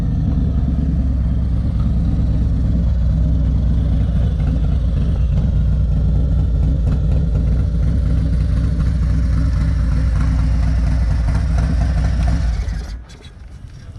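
Harley-Davidson Street Glide Special FLHXS engine idling close by, a steady deep loping rumble that runs evenly for about thirteen seconds before cutting off abruptly near the end.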